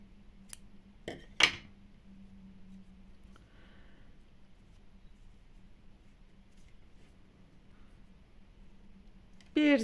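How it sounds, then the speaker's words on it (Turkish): Scissors snip crochet yarn in two or three quick sharp cuts near the start, followed by a long quiet stretch with faint handling noises and a brief louder rustle at the end. "ipi keselim"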